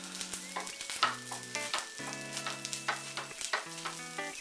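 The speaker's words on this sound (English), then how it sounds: "I'm just going to toss in the mushrooms, easy, saute these guys really quickly" Mushrooms sizzling in extra virgin olive oil in a pan, a steady frying hiss with stirring and tossing clatter, plus background tones and chatter in a busy kitchen setting.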